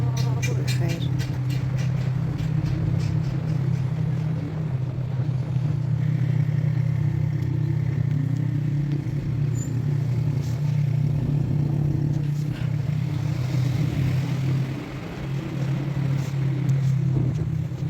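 A motorcycle riding through Kabul traffic, its engine a steady low drone throughout with road and wind noise, surrounding traffic clatter and faint horns, close and continuous.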